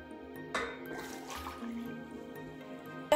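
Water poured into a bowl of flour and yeast for bread dough, a soft splashing trickle that starts abruptly and fades over about a second, close and quiet.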